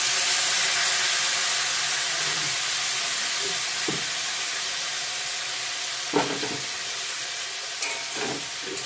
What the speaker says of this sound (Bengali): ধনিয়া গুঁড়া জল দিয়ে কষিয়ে নিই